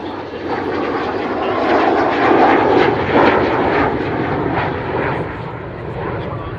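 An Avro Vulcan bomber's engines give a loud, continuous broadband roar that swells slightly and then eases, heard close and steady throughout, with a commentator speaking over it.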